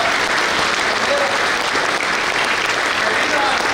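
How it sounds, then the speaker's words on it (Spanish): Congregation at a Mass breaks into strong applause, an even wash of many hands clapping throughout, fairly loud and close. "Le damos un fuerte aplauso"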